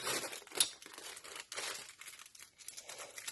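A plastic package of small fabric and pearl flowers being opened up close, giving faint crinkling and a sharp tearing rip, then scattered softer rustles, with no voices.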